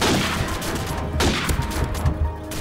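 A weapon in the Rise of the Undead zombie mod fires a single shot, a sharp burst with scattered impacts and crashes in a busy, loud game soundscape.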